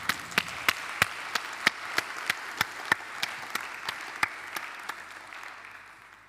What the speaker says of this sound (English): Let's give Chair a round of applause.